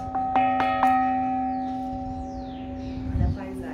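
Old bell in a castle chapel in Lisbon is struck three times in quick succession, the ringing tone sustaining and slowly fading. Voices murmur nearby.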